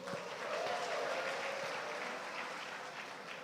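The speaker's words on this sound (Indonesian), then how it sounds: "Tepuk tangannya kurang keras" An audience at a university graduation ceremony applauds, a moderate, continuous crowd clapping heard from a distance in a large hall, steady for a few seconds.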